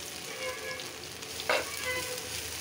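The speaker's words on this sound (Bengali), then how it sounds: "এখন শাকটা দিয়ে দিচ্ছি" Leafy greens frying in tempered dal make a steady close sizzle, with a single brief stirring scrape cutting through midway.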